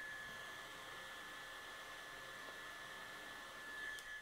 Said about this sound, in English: since I keep promising you some fan action, I'm going to go here, press it, and you can actually hear it towards my microphone